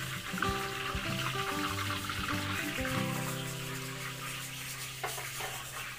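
Steady sizzling and crackling of embutido frying in hot oil, with a few clinks and tonal utensil sounds mixed in, continuous and close.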